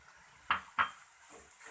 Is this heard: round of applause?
no